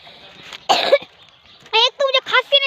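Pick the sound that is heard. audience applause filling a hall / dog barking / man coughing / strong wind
man coughing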